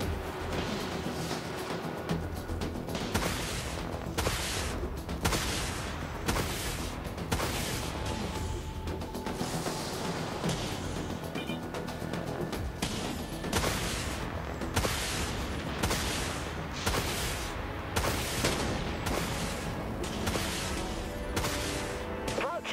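Broadside ballistic guns firing rapidly in the video game Dreadnought, a long rhythmic series of loud booming shots over a dense battle soundscape.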